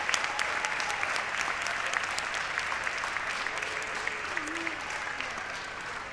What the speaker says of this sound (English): A round of applause for our P-TECH scholars at Clarksburg High School.